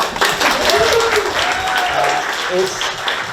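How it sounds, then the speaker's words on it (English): Audience applauding at the launch and awards event of an art prize, a steady, dense wash of clapping throughout with a few voices and whoops mixed in. "Clap, please."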